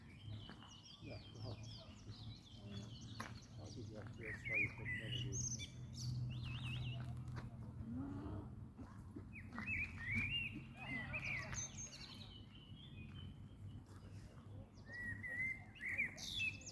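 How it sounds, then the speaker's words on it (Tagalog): Several birds chirp and sing in bright, repeated phrases by a lake in Europe over a low steady hum, fairly close and continuous. "Tapos yung ibon kumakanta habang ako nagtitake ng video."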